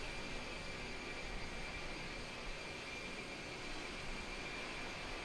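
Steady broadband jet engine roar of an iniBuilds A300 airliner in flight simulator, heard from outside the aircraft as a constant, even drone with no talking.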